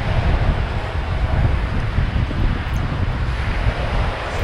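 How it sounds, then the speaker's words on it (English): Strong wind buffets the microphone on a Cuban beach at Playa Esmeralda, a loud, continuous roaring rumble with no pauses and no talking. "It was windy this day and it took all my effort to hold the selfie stick up"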